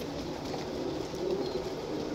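Pigeons coo softly in a low, continuous murmur, several birds overlapping at moderate distance with no clear gaps between calls.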